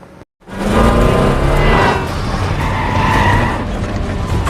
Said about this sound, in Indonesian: Terjadilah kejar-kejaran mobil di jalanan sempit.